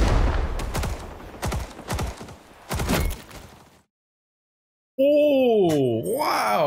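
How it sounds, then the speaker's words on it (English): Several short gunfire bursts from a Thompson submachine gun in the Vietnam War shooter Rising Storm 2, loud and close in the first few seconds, then silence before a voice-like groaning tone takes over. "Two shot bursts to kill people, I guess, with the Thompson."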